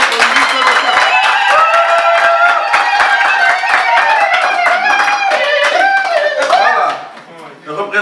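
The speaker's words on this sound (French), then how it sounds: "je demande d'abord à tous les compatriotes d'applaudir pour le président élu" A gathering of supporters applauds the president-elect, rhythmic clapping heard loud and close throughout, mixed with excited voices and singing-like cries before fading near the end.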